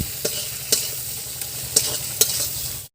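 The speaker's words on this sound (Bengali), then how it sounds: "এবার মশলাটা কষে নেব।" Tomato, coriander powder and chili powder fry in a pan, a steady close sizzle broken by several sharp scrapes and clacks as the spices are stirred, with no talking.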